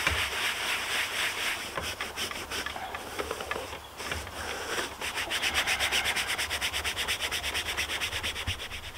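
Brush scrubbing the fabric seats of a FIAT 500 with water and black soap, rapid rhythmic rasping strokes, close and steady, speeding into a regular back-and-forth beat toward the end.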